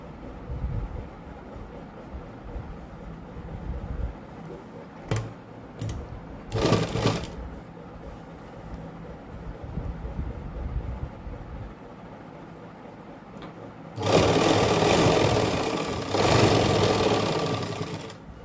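Sewing machine stitching lace onto a dupatta, with short bursts of rapid stitching followed by a long, louder steady run near the end and handling noise between the runs.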